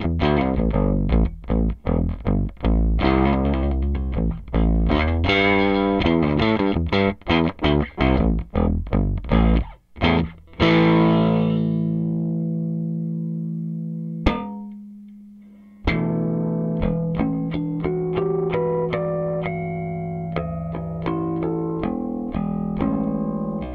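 A Rickenbacker 4001 bass guitar with its bass tone control turned down plays a distorted, effects-laden line, fast choppy repeated notes up front, then long sustained ringing tones with a brief drop to silence, loud and close without speech.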